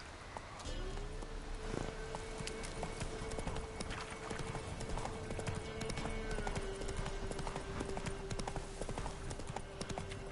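Horse hooves clip-clop at a steady walking pace in The Witcher 3 video game, moving through a swamp, with a faint sustained tone underneath.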